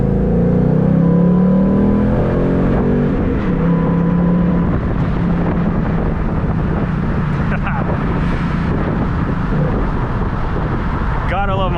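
A 2018 Ford Mustang GT Premium muscle car pulls hard across a bridge, its engine note rising steadily up through the revs with wind rumble, loud and continuous under someone talking.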